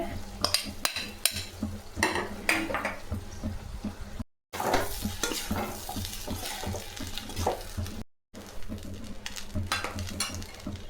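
A spoon scrapes and clinks steadily through cooked rice as it is mixed into an egg mixture in a pan for egg rice, with a faint sizzle beneath and two brief silent breaks.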